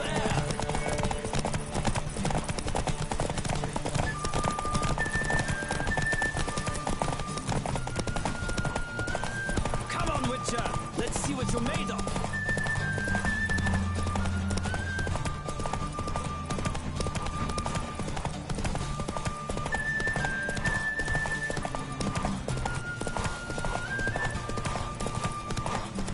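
Rapid, rhythmic hoofbeats of a galloping horse in The Witcher 3 on PS5 pound steadily throughout, with game music playing and occasional voices over the clatter.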